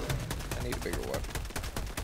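Sustained automatic gunfire in the video game Helldivers 2, with dense rapid shots across two seconds, some heavier bursts mixed in, and voices of players faintly underneath.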